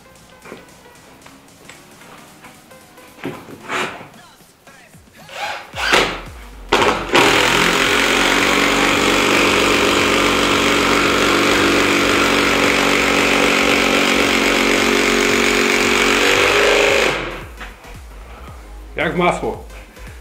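Parkside PDSSA 20V cordless impact driver sinks an 8x200 carpenter screw into soft poplar wood, a loud continuous rattling hammer lasting about ten seconds before stopping, with talk before and after.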